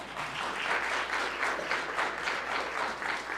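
Applause from an audience at a Martin Luther King Jr. Day of Service gathering, continuous clapping from many hands at a steady level across the brief stretch, with no talk over it.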